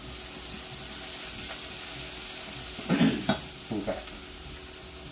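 Oil sizzling and frying in a pan while a cottage pie is cooked, a steady broad hiss throughout with a few brief louder stirring clatters near the end and a short spoken word.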